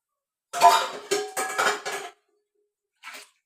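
Pots and dishes being washed with water clatter and scrape in a short burst of clinking, then a pause and one more brief clink, close by with no voices.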